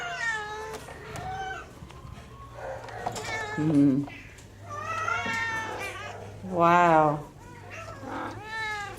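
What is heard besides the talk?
cats meowing at an animal shelter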